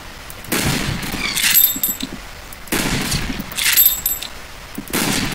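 Mosin-Nagant rifle shots in a video game ring out in two sharp bursts a couple of seconds apart, each loud crack followed by a metallic rattle and brief ringing tail.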